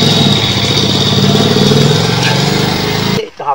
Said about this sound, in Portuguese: eu escutei uma moto zoando agora